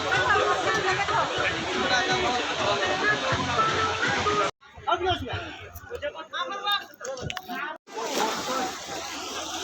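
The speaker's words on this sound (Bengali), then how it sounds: "দেখেছো ঢেউ দেখেছো কেমন আসছে প্রচুর ঢেউ আসছে" Waves slosh and splash around a boat near Udaipur, a steady loud wash of water that cuts out briefly while people talk over it.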